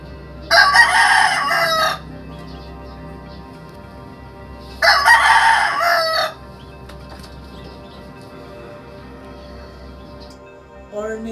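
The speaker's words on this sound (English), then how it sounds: "roosters making noises," Roosters crow outside in a semi-rural area, two long, loud calls a few seconds apart with quieter farmyard ambience between them and the start of another crow at the end.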